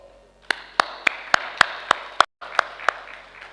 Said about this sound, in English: we as EXCOM deserve a big round of applause